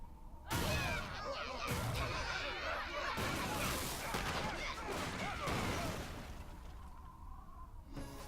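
Yaks smashing a log in a cartoon pony episode: a dense, loud run of crashing, thudding impacts and clattering debris that holds steady for several seconds before easing off, with no talk over it.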